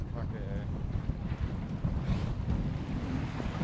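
A sailboat out on the Pacific Ocean in wind, with low, continuous wind buffeting and water rushing against the hull, steady and fairly close, while faint muffled activity around the deck comes and goes.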